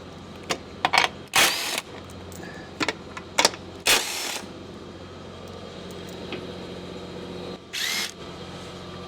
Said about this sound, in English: It's a 15mm socket that takes it off.